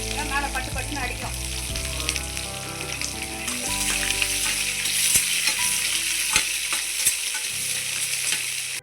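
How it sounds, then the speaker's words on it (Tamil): Dried red chillies splutter in hot oil on a stove while tempering for a Tamil mint chutney, a steady close sizzle broken by sharp crackling pops, with faint music playing underneath. "மிளகா போடும்போது ஸ்டோவில் வச்சுக்கோங்க, மேலே பட்டு பட்டுன்னு அடிக்கும்"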